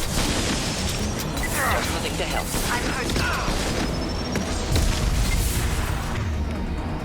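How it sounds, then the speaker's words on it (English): Rocket launcher explosions in the Mass Effect 2 video game, heavy booming blasts and crackling bursts rolling continuously through a dense combat din, loud and sustained with voices talking over the action. "Let's do rocket launcher."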